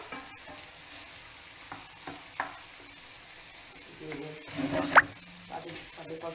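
Broccoli cooks in a pan with a quiet sizzle, broken by soft scrapes, plops and a sharp clink near the end, while a voice speaks faintly over it.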